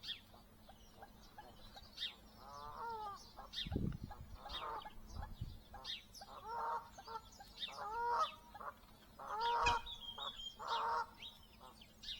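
Geese honk repeatedly in short bursts, some calls overlapping, with a couple of low thumps partway through and steady background noise.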